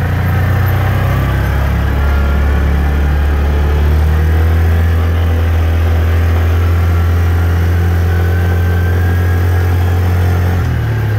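A ride-on mower engine runs steadily at a close distance, a loud, continuous low rumble with a mild idle throb that holds at the same level throughout, with no voices.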